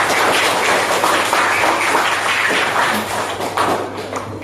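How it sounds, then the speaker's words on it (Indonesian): A classroom full of pupils claps for all the groups, dense lively applause filling the room at close range and fading slightly toward the end. "Tepuk tangan untuk semua kelompok."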